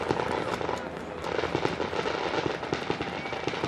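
Fireworks exploding at the Volvo Ocean Race 2011-12 in-port race departure ceremony in Itajai: dense, continuous crackling bursts and pops at a steady loud level, with faint crowd noise underneath.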